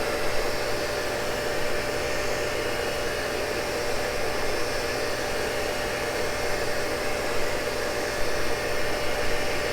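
A Cincinnati tool and cutter grinder runs steadily while sparking out a Morse taper, a continuous loud broadband whir and hiss of the grinding wheel with a steady tonal hum and no pauses or talking.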